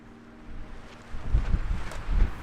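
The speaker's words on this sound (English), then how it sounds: "the wind began to pick up." Strong night wind gusting against a loosely secured tent on a solo spring overnight camp: a quiet breezy start, then heavy buffeting rumbles in repeated surges that grow louder toward the end, with no voices.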